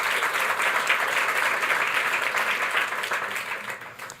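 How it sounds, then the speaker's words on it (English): Applause from an audience at a launch event for an urban innovation program, a full steady wash of clapping that holds evenly and then begins to thin and fade near the end. "So please give a round of applause."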